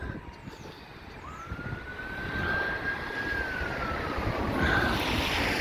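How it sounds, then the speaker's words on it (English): A fire engine passes along Blackpool's North Promenade on a rainy day, its siren wailing in a long faint tone over heavy traffic and rain noise, growing louder toward the end. "Cross the prom, fire engine on its way."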